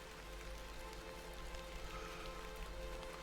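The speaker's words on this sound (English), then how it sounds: "A bit of rain won't kill me," Rain in the video game The Excavation of Hob's Barrow pours as a steady, faint patter and hiss on surfaces, continuous and without voices.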